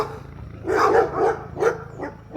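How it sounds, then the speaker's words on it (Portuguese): Angry dogs bark nearby, a short burst of three or four loud gruff barks in an uneven rhythm with quiet background between them. "Tem uns cachorros aqui meio bravo"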